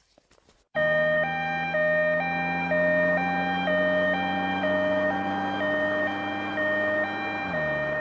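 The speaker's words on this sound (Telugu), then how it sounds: "అంబులెన్స్ వస్తుంది." Loud ambulance siren wailing in a steady two-tone pattern close by from the first second on, dipping slightly in pitch near the end as if passing, over a low vehicle rumble.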